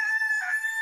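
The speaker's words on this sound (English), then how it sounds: "Get a rooster!" A rooster crows once in a long, drawn-out call with a clear tonal pitch, heard alone and fairly close, within a radio advertisement.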